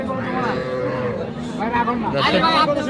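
A cow moos in a busy outdoor market, its low drawn-out call rising over steady crowd chatter and nearby voices.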